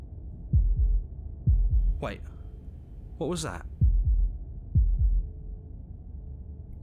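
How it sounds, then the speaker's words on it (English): Slow, muffled heartbeats thump in steady pairs in the video game Slay the Princess, low and close, with a voice speaking briefly between them. "That was the sound of a heartbeat,"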